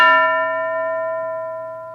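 A single bell rings once in a classroom lesson, struck close and loud, then holds a clear, steady ringing tone that slowly fades over two seconds with nothing else heard.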